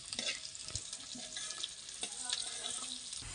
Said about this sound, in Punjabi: ਭਿੰਡੀਆਂ ਨੂੰ ਵੀ ਆਪਾਂ ਚੰਗੀ ਤਰ੍ਹਾਂ ਝੱਸ ਲੈਣੇ ਆ ਪਕਾ ਲੈਣੇ ਆ 2-3 ਮਿੰਟ ਵਾਸਤੇ